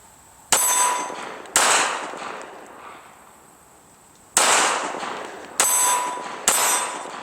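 A Glock 19 pistol fires five loud, sharp shots during a pudding torture test, each crack followed by a short ringing echo and irregular pauses between them.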